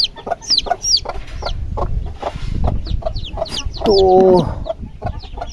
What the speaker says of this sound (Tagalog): Ito yung sisiw mga kaludi, oh. Ito 6 na piraso mga kaludi.